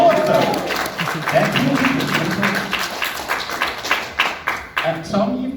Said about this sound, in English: You can applaud though.